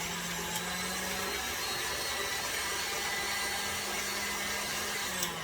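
Electric mixer whisking carrot cake batter, a steady continuous motor whir with a faint low hum, held evenly for a few seconds with no voices.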